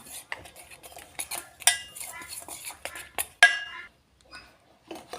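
Metal utensil scrapes and clinks against a bowl in quick irregular strokes, close and fairly quiet, as a thick batter paste for cauliflower chilli is mixed without water.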